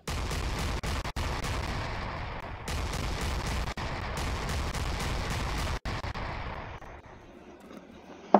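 Gunfire from a mounted gun in the video game Aegis, a loud continuous barrage of rapid shots with a few sharp cracks standing out, fading toward the end.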